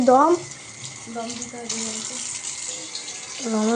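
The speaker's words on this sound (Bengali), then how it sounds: "দমে বসানোর জন্য এখানে জল নিয়ে নিচ্ছে সসপ্যানে" Water poured into a saucepan in a home kitchen while preparing biryani, a steady, soft splashing stream running under a person speaking.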